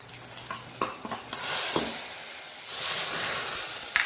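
A hot tempering sizzles as it is poured into Mangalore-style horse gram saaru on a gas stove, giving loud, close crackling and hissing with several sharp spatters and no talking.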